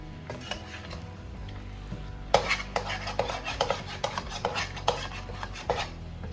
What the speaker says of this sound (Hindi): फिर भी आपने रगड़ना है नीचे से कढ़ाई को।